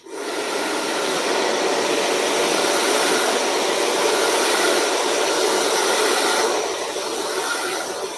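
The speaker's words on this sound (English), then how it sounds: "Back in with a hairdryer for this." Hair dryer fitted with a nozzle blows at high heat and low speed, a loud, close, steady airy whoosh lasting throughout and dipping slightly near the end, with no talking.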